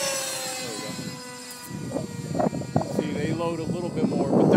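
RC helicopter with Edge 603 flybarless blades flying a loop, its motor and rotor whine rising and falling in pitch as the load changes, moderately near, with voices talking over it.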